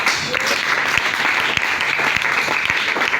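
A church congregation applauding in acclaim of Jesus, dense sustained clapping from many hands, loud and close throughout.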